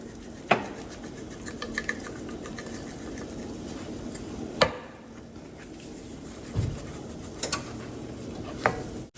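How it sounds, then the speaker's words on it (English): A spoon clinks and scrapes against a pot while creamy chickpea chicken curry with seasoning, cumin and garam masala is stirred, giving a few sharp metallic knocks spaced apart over quiet kitchen background. "give that a good stir"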